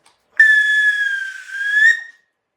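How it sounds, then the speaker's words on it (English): A single sustained whistle blast, bright and steady, lasts about one and a half seconds, close and loud, with silence on either side. "yep, a whistle."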